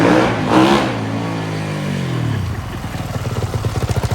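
Dirt bike engine revving up and then dropping back to a pulsing idle, loud and close, the pitch rising and sliding down before settling into rapid rhythmic firing.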